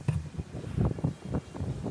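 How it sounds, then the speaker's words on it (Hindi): Strong wind at an outdoor flag site in Port Blair, Andaman and Nicobar Islands, buffets the microphone in low rumbling gusts that rise and fall throughout. "थोड़ा ज़्यादा हवा चल रहा है"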